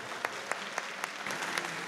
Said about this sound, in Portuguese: Pode aplaudir mais